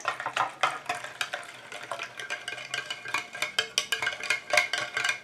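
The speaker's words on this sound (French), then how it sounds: "Je continue à mélanger comme ça jusqu'à ce que ma préparation refroidisse et épaississe" Steady rhythmic scraping and clinking of a utensil stirring a homemade after-sun plum lotion, its oil and water phases mixed in a container, a regular close beat of strokes continuing throughout without any voice.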